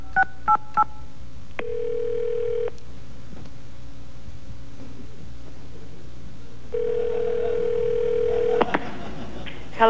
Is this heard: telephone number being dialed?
yes